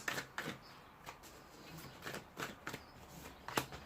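Tarot cards riffled and shuffled by hand in soft, irregular bursts of papery flutter, quiet and close, with short pauses between handfuls.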